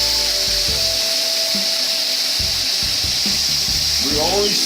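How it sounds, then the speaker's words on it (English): New York strip steaks searing in a hot pan, a constant close hissing sizzle with some clatter and faint background voices. "We're only searing this to infuse and make sure all of our flavor stays inside of our meat"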